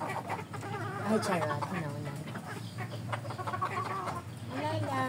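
Chickens cluck and chatter near a home, several short throaty calls scattered across the moment while a person talks over them.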